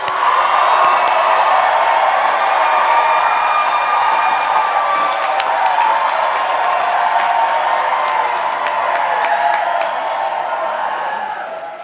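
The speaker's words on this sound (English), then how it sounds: "Can we please give another round of applause to our wonderful student leader, Carolyn?" A large audience at a college convocation bursts into sustained applause and cheering, a loud, dense roar of clapping and whoops that holds steady before tapering slightly at the end.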